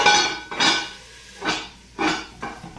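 A lid goes onto a cooking pot, making several loud clanks and scrapes of metal in an uneven rhythm, close by and with no talk.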